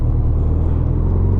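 A 1987 Honda GL1200 Goldwing motorcycle engine idles steadily, a low continuous rumble heard close up with no voices.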